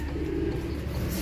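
A racing pigeon back at its loft after a 50 km training toss, cooing in a low, soft, continuous murmur, close by and without talk.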